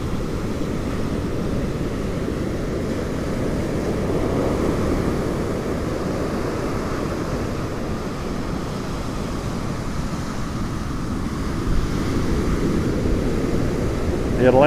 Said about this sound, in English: The Atlantic Ocean, folks, at Smith Point, Long Island, New York.